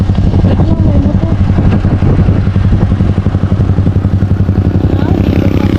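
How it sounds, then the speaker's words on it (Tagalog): A motorcycle engine drones steadily close by with a rattling, buzzing low rumble as it passes, and voices speak over it. "Wait lang, may motor."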